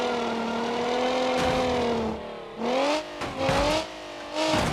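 Damaged, oil-starved car engine running in the BeamNG.drive video game, a steady droning hum with rising and falling revs and several brief dips and surges, loud and close with no talk.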